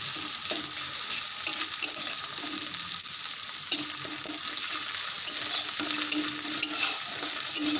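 Spice pastes including garam masala paste hitting hot oil for a mustard hilsa dish, producing a dense, constant close sizzle with occasional stirring clicks and crackles.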